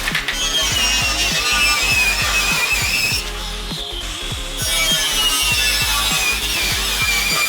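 Alloy metal for a seat is cut by hand with a saw, a loud rhythmic rasping of repeated back-and-forth strokes, pausing briefly partway through before resuming, with no talk.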